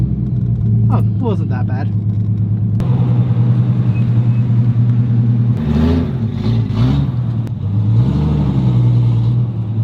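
Engines of a 350, a Civic and a GTR idle and rumble deep and steady nearby, with a few revs and rising engine notes while someone talks over them.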